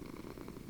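A cat purrs softly and steadily in Minecraft, a low continuous rumble close by with no talk over it.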